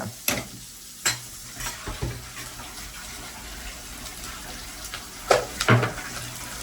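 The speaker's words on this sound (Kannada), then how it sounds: "ಇಲ್ಲಿ ನೋಡಿ ಚಿಕನ್ ನೀರು ಬಿಟ್ಕೊಳ್ತಾ ಇದೆ" Chicken for chicken sambar cooking in a pot as it releases its juices. A soft bubbling sizzle runs throughout under a few sharp clinks and scrapes of stirring. There is no talk.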